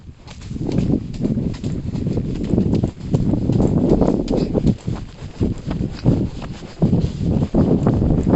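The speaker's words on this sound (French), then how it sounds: "Est-ce que ça serait pas le moment de se faire un petit trot Bali tranquillement là?" Rhythmic hoofbeats of a horse trotting over a soft forest trail, steady and close, with rustling leaves and brush around it.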